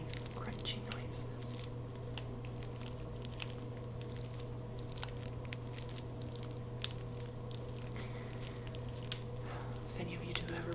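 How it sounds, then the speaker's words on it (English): Dried sage smudge sticks rolled in a hand close up, giving soft continuous crunching and crackling over a low steady hum, without clear speech. "let me just roll this around in my hand while it makes nice crunchy noises"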